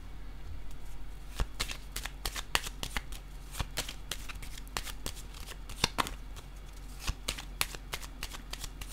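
A tarot deck is shuffled close by, with quick riffling card flicks and snaps that repeat steadily and stay clear without any talk.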